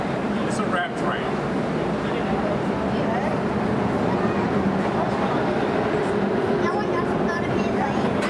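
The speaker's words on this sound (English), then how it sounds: "It's a wrap train." A CTA wrap train rumbles and screeches through the Chicago Loop, a dense continuous roar of wheels and rails with squeals, while people talk nearby.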